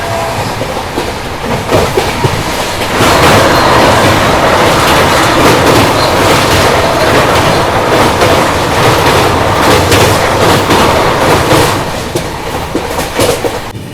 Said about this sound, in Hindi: देखो अभी सामने से आ रही है क्रॉसिंग के लिए न्यू जलपाईगुड़ी गुवाहाटी वंदे भारत एक्सप्रेस।